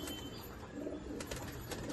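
Soft, low cooing from pigeons in a fancy-breed collection, steady and fairly quiet against a dense background of ambient noise. No one speaks.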